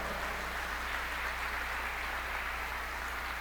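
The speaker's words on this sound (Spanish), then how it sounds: "Dale ese aplauso al Señor" A church congregation applauds together in a steady, even wash of clapping that holds at a modest, somewhat distant level for the full few seconds, with no voices standing out.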